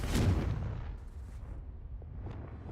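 A spell blast from the wizarding game Hogwarts Legacy, a single heavy boom that strikes loud and close at the start, then rolls off into a long rumbling decay with faint scattered pops.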